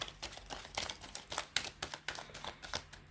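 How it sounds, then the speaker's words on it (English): A deck of tarot cards is shuffled by hand, producing quiet, rapid, irregular clicks and riffling snaps in quick succession, soft and close, with no talking. "I don't normally shuffle on camera"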